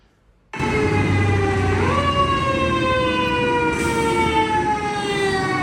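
A fire engine siren starts abruptly and wails loud and close, its pitch sliding as the truck passes, with steady engine rumble underneath.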